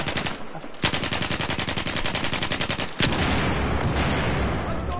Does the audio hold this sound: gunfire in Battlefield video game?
yes